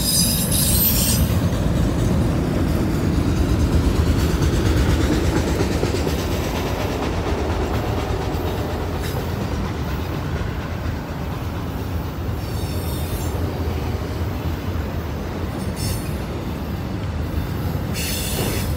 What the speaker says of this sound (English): I heard the rumbling coming down the other tracks here because they're so close together